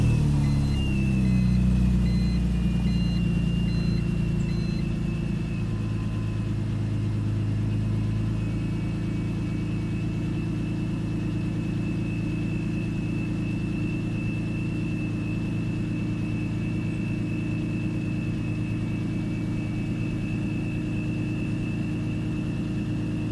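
Dinan S3 car engine idling after a cold start, fitted with a lightweight flywheel, a loud steady low rumble with a faint whine that settles slightly after the first seconds and holds evenly throughout.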